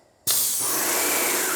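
Fire-resistant coating bursts from a sprayer onto a garage and keeps going as a loud, steady hiss that doesn't let up.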